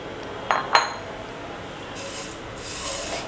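Vermicelli is tipped into a pan and stirred: two quick metallic clinks near the start, then a soft, steady scraping and rustle of utensil against the pan, close and without speech.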